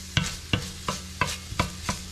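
Ginger sautéing in a pan on medium heat, a soft steady sizzle under a quick series of about six evenly spaced spatula scrapes and taps, close and clear.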